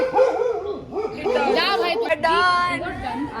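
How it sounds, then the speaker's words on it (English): Dogs bark and yip in the background while people chatter loudly nearby. "They're not aggressively barking, that helps."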